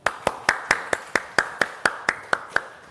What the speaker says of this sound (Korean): 발제 강연 박수로 맞이하겠습니다